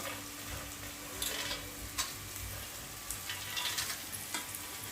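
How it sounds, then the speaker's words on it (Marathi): Peanuts fry in hot oil for a Maharashtrian roasted-eggplant bharit, giving a steady close sizzle with faint stirring scrapes and small crackling bursts throughout, and no voices. "शेंगदाणे पण तळून निघतात चांगलं."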